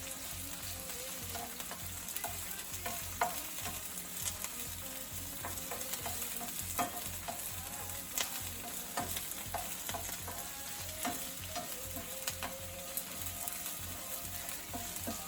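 Vegetables and Scotch bonnet pepper sauté in a pan, a steady bright sizzle running throughout with frequent small scrapes and clicks of stirring, close and fairly loud, with no voices.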